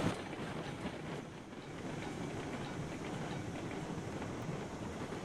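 Steam train in the Railroads Online video game rolling along its track, a steady, continuous rumble with faint clickety-clack running throughout at moderate volume, with no talking.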